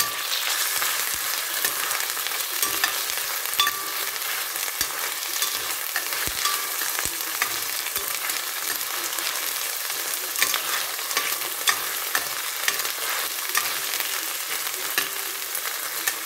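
Garlic frying in a pan for ampalaya con carne, a bright, busy crackle and sizzle that runs steadily throughout with scattered small pops and clicks.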